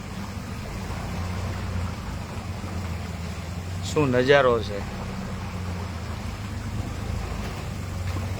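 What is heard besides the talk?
boat moving on the AVM canal, Kerala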